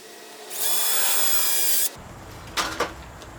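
A power drill whines steadily for just over a second while boring a hole during a DIY refrigerant recovery system build, then cuts off, followed by a couple of quiet knocks of handling.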